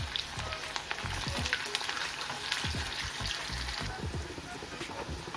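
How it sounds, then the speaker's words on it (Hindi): Washed bitter gourd (karela) pieces fry in hot oil, producing a close, busy crackle and spatter with frequent popping bursts and occasional stirring knocks, fairly quiet overall. "तो ये इस तरीके से धो धा के हमने ये डाल दिए तेल में। तो फटाफट इसको हम फ्राई कर लेंगे।"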